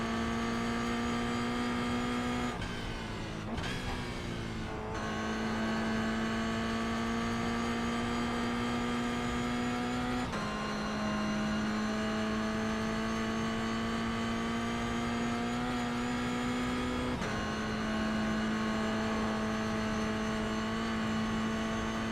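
A race car engine in iRacing drones loudly and steadily in-car, with quick dips and re-rises in pitch as it shifts up through the gears, about three upshifts, no talking.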